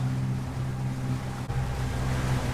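A boat motoring across a calm sea on a morning passage toward Sardinia, its engine a steady, close, droning hum with a constant low throb and an even hiss of water around it.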